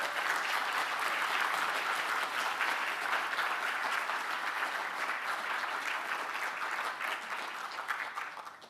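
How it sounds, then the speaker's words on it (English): Sustained audience applause at the Merdeka Award presentation ceremony, a steady wash of many hands clapping at moderate distance that holds evenly for the whole stretch and thins slightly at the very end. "I believe all our Merdeka Award recipients deserve another big round of applause."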